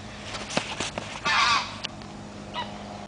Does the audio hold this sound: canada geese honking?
yes